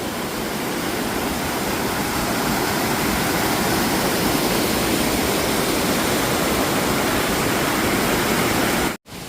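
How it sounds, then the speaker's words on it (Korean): Cold mountain water cascades down a mossy valley in Gariwangsan, Jeongseon, a loud, steady, close rushing roar that runs unbroken until it cuts off briefly near the end. "위에서부터 지금 쏟아지는 시원한 물줄기."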